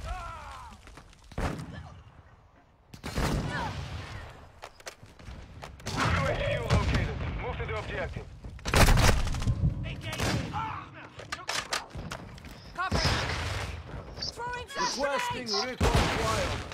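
Video game gunfire comes in repeated loud bursts and rapid volleys with thuds between them, under occasional talking.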